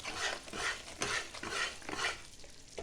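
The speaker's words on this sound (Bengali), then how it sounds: "আর এইরকম ভাবে কন্টিনিউ নাড়াচাড়া করতে হবে যাতে না লাল ভাবটা চলে আসে।" Besan (gram flour) for laddu being stirred continuously in a pan, a steady scraping shuffle with regular strokes about twice a second, close up and moderately loud, with a faint sizzle and no talk.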